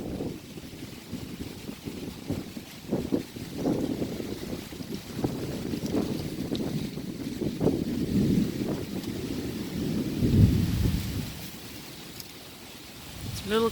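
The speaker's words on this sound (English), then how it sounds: "Lightning coming from this side." Gusty wind sweeps ahead of an approaching thunderstorm, a steady rumbling rush with uneven gusts buffeting the microphone outdoors.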